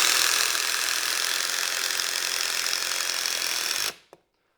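A Hercules impact driver hammers a screw into wood with a loud, continuous rapid rattling whir that cuts off abruptly near the end, followed by a couple of faint clicks.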